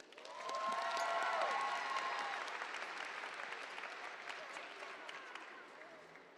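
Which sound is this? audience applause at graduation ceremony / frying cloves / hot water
audience applause at graduation ceremony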